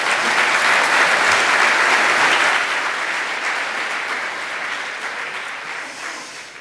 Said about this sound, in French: Patrick Michel, on vous applaudit, on vous écoute.